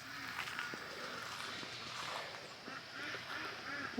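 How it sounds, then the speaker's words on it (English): Several ducks call to one another close by, a steady stream of nasal quacks and honking chatter that runs continuously over a light outdoor background. "they're chit-chatting there with their heads bobbing around"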